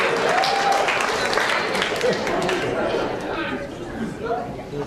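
Round of applause at an annual awards celebration and installation as a presentation award is handed out, clapping mixed with loud crowd chatter and voices throughout.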